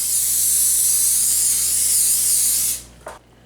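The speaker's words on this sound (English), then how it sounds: "spray a 9x13 baking dish with non-stick cooking spray" A continuous hiss of non-stick cooking spray onto a 9x13 baking dish runs for nearly three seconds, then stops abruptly, followed by a brief clink.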